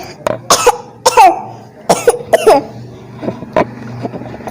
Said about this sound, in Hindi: एक चूहे को खांसी आ गई